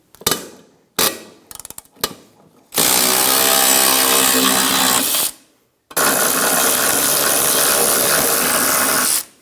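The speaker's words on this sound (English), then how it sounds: "Using a 14mm socket, remove the bolt out of the middle of the cross member." A power tool whirs in two long sustained runs after a few short clicks and bursts, loosening a crossmember bolt with a 14mm socket during driveshaft replacement on a 2003-2007 Infiniti G35; loud and close, no talk.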